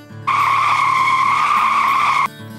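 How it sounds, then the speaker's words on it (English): Car brakes from GTA V lock up in a loud, sustained tonal squeal that starts abruptly, holds steady for about two seconds and cuts off, with a low engine hum underneath. "obviously that's brakes squealing, like the brakes just got locked up"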